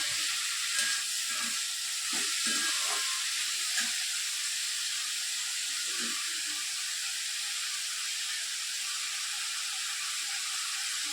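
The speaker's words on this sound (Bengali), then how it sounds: "এবারে ভালো করে ভাজছে। ঝিঙা দিচ্ছি, আলু পেঁয়াজ ভাজা হয়ে গেল" Ridge gourd, potato and onion fry in a home pan with a steady, even sizzle across the whole stretch, joined by a few soft low clinks and stirring knocks.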